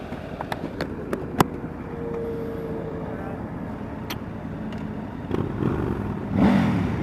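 Triumph three-cylinder motorcycle engine, a Tiger 900 Rally or 1200 Scrambler on a test ride, droning and building as it accelerates, with wind rush and a few clicks, while a rider speaks over it.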